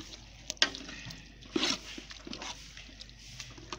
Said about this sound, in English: I have to stir the pot for it to mix.